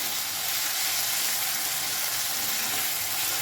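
Spice paste with turmeric powder frying in a pan for a lote fish curry, a steady, loud, close sizzle that holds without a break.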